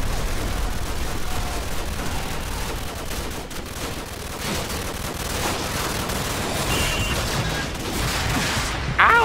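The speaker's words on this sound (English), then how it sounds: "Please stop shooting at me." Dense gunfire from Call of Duty 4: Modern Warfare, sustained bursts of automatic weapons and heavy shooting rattling continuously and loudly throughout, with no one talking.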